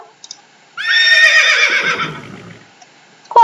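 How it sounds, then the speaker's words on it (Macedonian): A horse gives one long, loud whinny that starts high and shrill, then wavers and drops into a lower fluttering snort before fading, heard alone. "Конјот."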